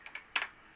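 A single key press on a computer keyboard, preceded by two lighter taps, each a short, faint click close by with no voices.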